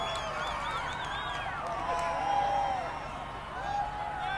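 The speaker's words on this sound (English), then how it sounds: "You can hear the crowd." A crowd watching a total solar eclipse in Hopkinsville, Kentucky, sends up scattered whoops, whistles and cheers that rise and fall over a steady murmur of voices, with people talking nearby.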